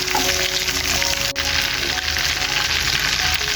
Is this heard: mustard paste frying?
yes